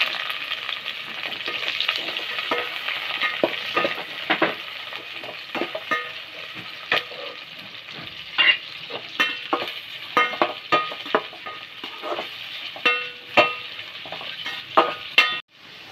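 Onions with cinnamon, cardamom and cloves sizzling in a hot pan for mutton biryani, a steady fry hiss broken by repeated scraping and clinking stirs of a spoon against the metal, close and alone without talk.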